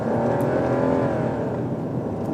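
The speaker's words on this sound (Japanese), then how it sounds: "アクセル操作に応じてエンジンがグワングワンと言ってくれるんですよね。" Toyota Raize hybrid (Daihatsu Rocky) engine revving under acceleration, its tone rising and swelling steadily as it gains speed, heard from inside the car, continuous and fairly loud.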